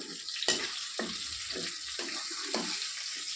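Food sizzles steadily in oil in a pan, a continuous hiss broken by several sharper crackling bursts and soft stirring clinks, close and fairly loud, with no talking.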